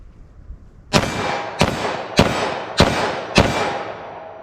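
.45 ACP rounds fired from a short-barrel Liberty Overwatch: five loud, sharp gunshots evenly spaced about half a second apart, each with a ringing tail, over a quiet outdoor background.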